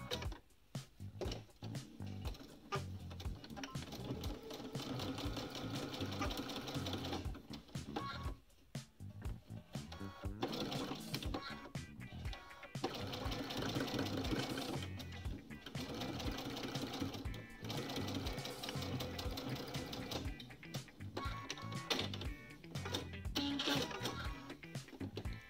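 A sewing machine stitches quilt squares right sides together across a middle seam for a cathedral window block. It runs close and steady in long bursts with brief pauses between runs, and no talking.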